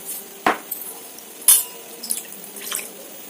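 Coriander leaves being washed in a bowl of water with a little salt, giving a few sharp splashes and clinks of a vessel, then soft trickling and dripping, close by, with no talk.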